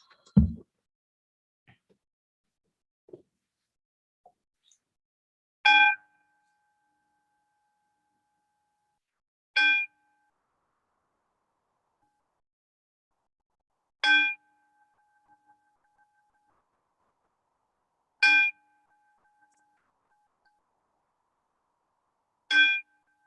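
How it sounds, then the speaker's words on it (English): A temple bell tolls five times during a Buddhist monthly memorial service, each stroke a clear ringing clang with a lingering hum, spaced about four seconds apart in an otherwise quiet room. "please sit with me during the tolling of the bell"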